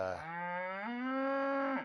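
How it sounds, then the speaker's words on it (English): A single cow moos in one long, drawn-out call lasting under two seconds, clear and fairly close, with nothing else around it, at a cattle pasture during calving. "So in the distance you can kind of hear them mooing as well"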